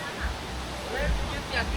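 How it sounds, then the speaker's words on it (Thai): Water from Wang Bo waterfall flows down a valley as a steady rushing wash, with a person talking over it. "น้ำไหลลงมาตามหุบเขานะ"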